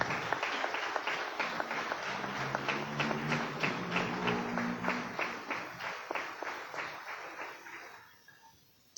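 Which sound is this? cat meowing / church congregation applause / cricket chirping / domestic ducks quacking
church congregation applause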